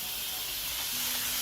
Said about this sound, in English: Fry for about a minute.